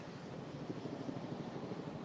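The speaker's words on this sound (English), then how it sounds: "There's a helicopter overhead, but that's usually traffic here in Chicago." A steady, muffled helicopter rotor thrum drones overhead in Chicago, a low pulsing rumble that stays even throughout with no voices.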